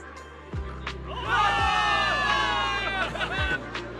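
A crowd of soldiers in a video game cheers and shouts together in a sustained swell of voices, rising to a loud peak and holding, with a few thuds underneath.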